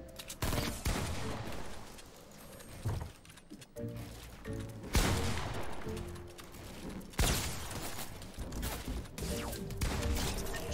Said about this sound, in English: Stop shooting, dude. He's got a double barrel.